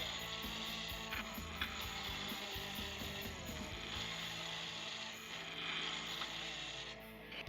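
A bench grinder's abrasive wheel being cleaned and squared with a hand-held dressing stone, a continuous mechanical grinding whir with scraping texture, steady and fairly close, no voices.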